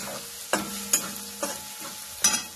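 A spoon scrapes and stirs a Veg Manchurian mixture of cabbage and chillies in a pan, giving four or five distinct clattering strokes over a soft background sizzle.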